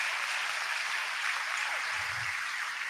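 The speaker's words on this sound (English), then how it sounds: "You can applaud." Audience applause at a MEX Talks 2022 speaking event, a steady, dense wash of clapping that fills the whole stretch without letting up, with no voices standing out.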